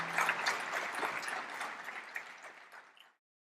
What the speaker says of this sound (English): Ladies and gentlemen, please give a big round of applause for D. Sivanandhan sir.